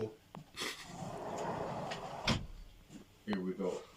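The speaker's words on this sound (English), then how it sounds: "Just a door." A door opens and closes with a sharp thump midway, surrounded by rustling handling noise and a few knocks, while voices talk nearby.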